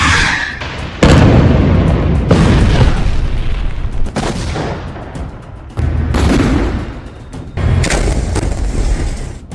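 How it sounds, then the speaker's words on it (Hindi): Loud rumbling blasts from bombing in southern Lebanon come in several heavy bursts separated by short lulls, each one a long, roaring boom. "इस धमकी के बाद अब दक्षिणी लेबनान में भी कारपेट बॉम्बिंग शुरू हो चुकी है"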